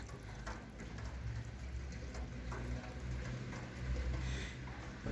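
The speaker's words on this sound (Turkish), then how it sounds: "Nasıl pek güzel yağıyor maşallah maşallah." Steady rain pours down on a village yard in the countryside, a dense continuous patter and hiss that fills the whole stretch evenly, heard close with no talking over it.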